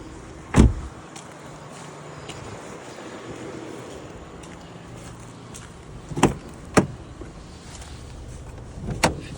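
The hood of a 2008 Renault Scenic II minivan with a 1.6 petrol engine is unlatched and raised, heard as a few sharp, separate clunks and clicks over a quiet background.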